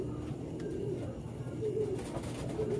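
A racing pigeon arriving at its loft gives soft, repeated cooing calls, with a few more birds audible in the background over a steady low outdoor rumble.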